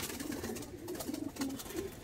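Chennai breed pigeons in a loft cooing, several low, repeated coos layered over each other at close range, with a steady background of other birds and loft noise.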